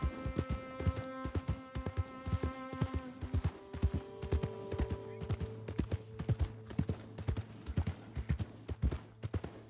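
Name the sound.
horse hooves clip-clopping, from a video game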